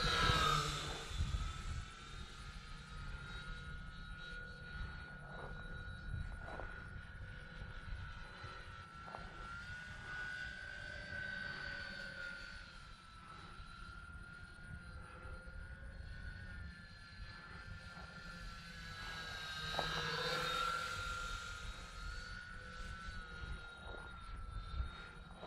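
An H-King Lancaster V3 model plane, a four-engine RC bomber, flies overhead with a steady, faint multi-motor drone that rises and falls in pitch as it passes, swelling louder at the start and near the end.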